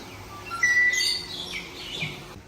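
Pigeons kept as a hobby call and chirp at a loft, a few bright overlapping notes standing out over steady low background noise.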